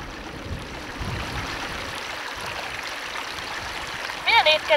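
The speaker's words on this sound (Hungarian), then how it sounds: "először megpróbálunk vizet meríteni és kiszűrni az üledékeket és a kavicsokat" Water is scooped and strained of sediment and pebbles outdoors, a continuous rushing, gurgling flow with occasional splashes, and a brief burst of voice near the end.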